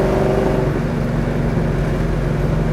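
A 1969 Chevrolet Chevelle SS cruising in fourth gear and coasting down from about 70 mph, its engine giving a steady, loud low drone with a slight downward pitch drift as it slows.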